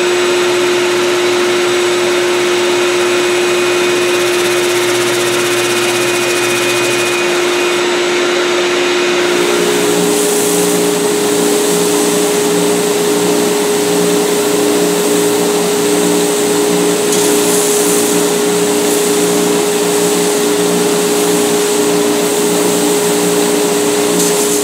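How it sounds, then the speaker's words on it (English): Steady, continuous whine of a deadhead sander shaping a guitar neck by hand, loud and unbroken, with the motor note shifting slightly partway through as pressure on the wood changes. "when you first start using your deadhead sander"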